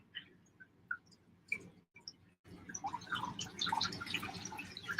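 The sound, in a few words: wringing out wet dyed yarn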